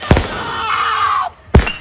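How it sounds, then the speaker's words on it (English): Fireworks go off as two sharp, loud bursts, the first followed by a long crackling, hissing trail that cuts off before the second bang. "We're past the halfway point with the fireworks."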